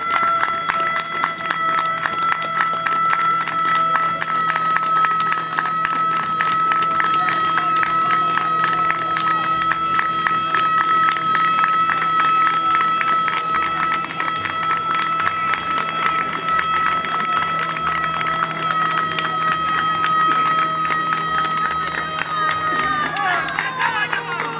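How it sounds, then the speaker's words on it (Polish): Sustained applause and cheering from a crowd of spectators at an outdoor volunteer fire brigade competition, loud and continuous for the whole stretch, with a steady tone and crowd babble mixed in. "a tymczasem brawa, tak jak słyszymy,"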